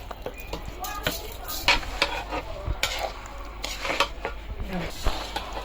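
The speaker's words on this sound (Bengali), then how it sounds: "আর সেই তেলের মধ্যে আমি এখন চালটা ভেজে নিচ্ছি।" Rice frying in oil for biryani is stirred in a pot, giving a continuous sizzle with repeated scraping and clinking of a spoon against the pan, up close.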